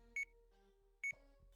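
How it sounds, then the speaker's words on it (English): Two short, bright electronic rings from a wrist-worn device in the game Sweet Fuse, evenly spaced about a second apart over a faint low hum. "a ringing sound came from the device around his wrist"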